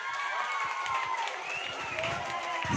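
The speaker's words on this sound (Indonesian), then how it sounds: "Tepuk tangan dulu untuk adiknya" A group claps and cheers briefly for a child at a plastic-waste awareness event in Selayar, the scattered claps mixed with raised voices and excited chatter.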